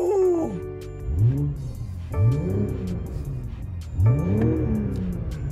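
A 2021 BMW M440i xDrive coupe engine revs up three times in a row, each surge rising then dropping back to a rumbling idle, loud and close.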